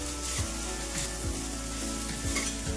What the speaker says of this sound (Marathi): आपल्याला आता 5 मिनिटांसाठी परतून घ्यायचा आहे मीडियम गॅस वरती।